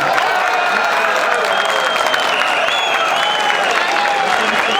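A crowd applauds steadily at an outdoor oil wrestling award ceremony in Çan, Turkey, dense clapping filling the space without a break, with some voices mixed in.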